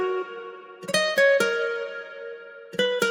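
Guitar beat in FL Studio with reverb and EQ, a short plucked phrase whose notes ring and blur together in a soft wash, then two more picked notes near the end, quiet and spacious.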